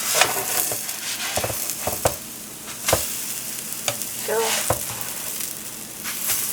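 Buttermilk gingerbread pancakes sizzling in a pan, a steady frying hiss broken by several sharp scrapes and taps as a spatula slides under and flips them.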